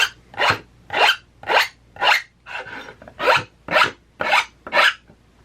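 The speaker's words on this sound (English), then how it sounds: "the headwire ends of the ribs are rounded with a rasp" A rasp rounding the headwire ends of wooden ribs for an ca 1860 parasol frame, nine rhythmic rough strokes about half a second apart, close and loud, with no talking.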